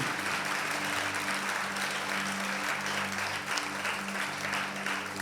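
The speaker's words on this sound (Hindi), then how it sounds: "ताली बजा के प्रभु का महिमा करिए" During Sunday worship, a church congregation keeps up loud, continuous clapping in praise, many hands together in a dense, even wash over a low musical drone.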